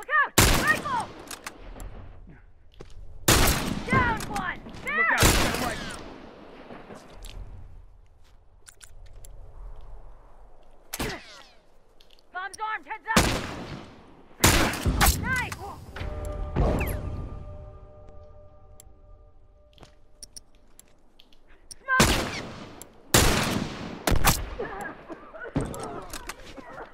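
Hunting rifle and other gunfire ring out in a multiplayer match of The Last of Us, loud sharp shots arriving in scattered clusters separated by quieter gaps.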